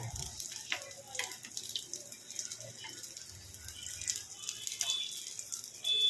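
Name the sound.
fish chop (macher chop) frying in a pan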